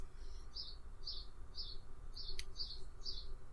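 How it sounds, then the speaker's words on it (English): Mechanical birds play ambient chirping inside a hall, a faint, regular series of about seven short high tweets over a low steady background hum. "They're mechanical birds."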